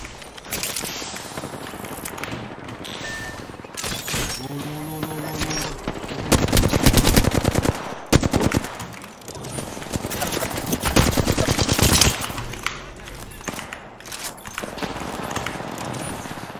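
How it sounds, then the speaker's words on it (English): Rapid automatic gunfire in the video game Apex Legends, with loud sustained bursts and single shots crackling over a steady game background, while a player talks during the action. "Just shoot them. Keep shooting."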